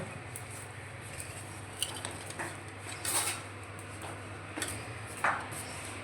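A metal spoon clinks and scrapes faintly while sauce is spread on a homemade kulcha in a home kitchen, a few sparse light taps and scrapes over a quiet background hum.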